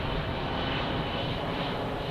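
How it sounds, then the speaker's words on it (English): An airplane passes overhead at night above a Walmart parking lot in Salem, Massachusetts, its engine a loud, steady broadband roar filling the whole moment with no voices. "And planes going overhead"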